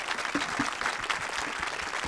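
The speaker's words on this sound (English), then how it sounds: "So huge round of applause for Martin and his amazing work." An audience at a film music composer's talk applauds in a steady, fairly soft wash of clapping that carries through the whole moment without talk.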